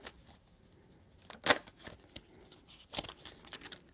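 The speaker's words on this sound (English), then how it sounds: "3 shuffles." Tarot cards are shuffled by hand in a quiet room, with a sharp riffling burst followed by softer papery flicks and taps, close and isolated.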